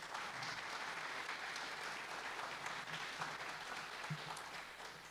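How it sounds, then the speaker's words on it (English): Sustained applause from a conference crowd at a PyOhio gathering, a steady dense clatter of many hands filling the whole stretch, easing slightly toward the end. "Let's have another round of applause for our platinum sponsor."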